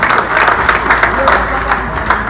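Audience applause at a hip-hop conference and debate marking 50 years of hip-hop and 40 years of Kreyòl rap, given for Gary Saint-Germain; dense, steady clapping from a crowd that fills the whole moment, with voices mixed in.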